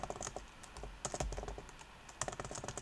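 Keys clatter on a computer keyboard in quick bursts of close, crisp clicks, pausing briefly between runs of typing, with no voices.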